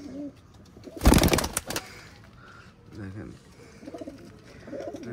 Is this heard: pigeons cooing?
yes